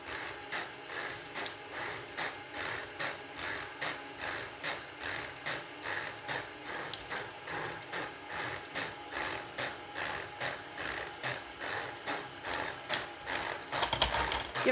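KitchenAid sifter and scale attachment running on a stand mixer, a steady mechanical whirring with a fast repeating clatter like a ratchet, continuous and close throughout, slightly louder near the end.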